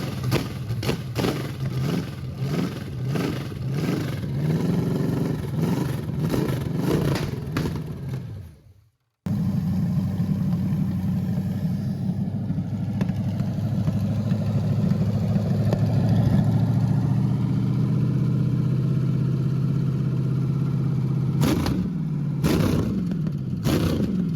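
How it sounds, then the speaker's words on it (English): The high-performance engine of a 1970 GMC C-15 truck is blipped in a string of sharp revs, cuts out briefly, then runs on in a loud, steady, rough idle before a few more quick revs at the end. "Oh, she's putting out high horsepower. Oh, it's a high perf motor for sure."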